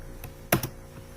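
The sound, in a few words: typing a number on a computer keyboard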